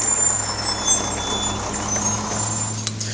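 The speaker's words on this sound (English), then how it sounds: "you'll just have to excuse the garbage truck" Garbage truck outside a garage where a Chevy Silverado alternator is being worked on, a steady low diesel idle rumble with faint high tones and a sharp clank near the end, no talk.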